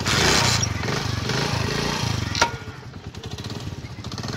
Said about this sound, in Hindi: तो गाइस, जब मैं बाइक को स्टार्ट करने वाला हूँ तो चढ़ाते हैं।